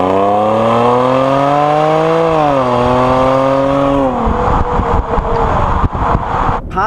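A 2017 Jaguar F-Pace with a supercharged 3-litre V6 accelerates hard, its engine note climbing loudly through the revs, then dropping into rougher road and wind noise.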